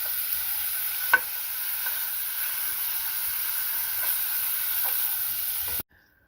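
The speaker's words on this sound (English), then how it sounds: "we're going to brown our hamburger because I'm making hamburger pizza today" Ground hamburger meat browning in a pan for hamburger pizza, a steady close hiss and sizzle with a few faint clicks of a utensil, cutting off abruptly near the end, with no voices.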